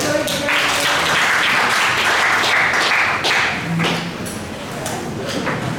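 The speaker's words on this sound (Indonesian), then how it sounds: "Beri tepuk tangan sekali lagi" Crowd applause in a hall at a public forum on state-built low-cost apartment housing, a dense steady clatter of clapping that holds throughout and eases slightly near the end.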